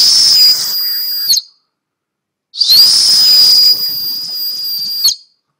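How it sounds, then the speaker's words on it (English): Two shrill, piercing blasts on a strawberry-flavoured Fueramune candy whistle, loud and close, each about a second or more long, separated by a brief silence. "a candy whistle,"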